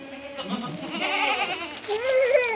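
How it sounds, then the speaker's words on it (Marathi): A goat bleats with a wavering, drawn-out cry near the end, over nearby people talking and calling throughout. "नाही काय करत बकरी आहे बकरी"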